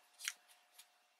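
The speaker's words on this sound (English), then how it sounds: "Cut a piece of twine." Scissors snip a piece of twine, one clear crisp cut followed by two fainter snips, quiet and close with no talking.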